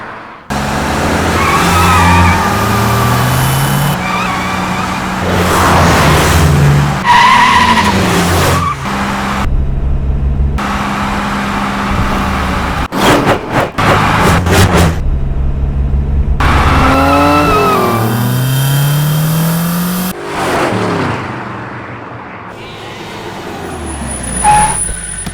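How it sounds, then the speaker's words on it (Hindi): Car tyres squeal in a skid as a vehicle brakes hard to a stop, loud over a busy film soundtrack with music, followed by a sharp cut to quieter ambience. "यहाँ पर गाड़ी क्यों रोक दी?"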